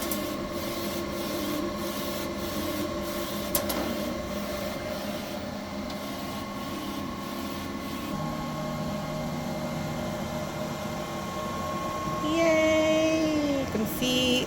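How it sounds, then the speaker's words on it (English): A UV printer runs a print job: a steady mechanical hum with a rhythmic carriage rubbing and whirring, a tonal motor whine rising near the end and faint voices in the background. "we'll go ahead and print this again"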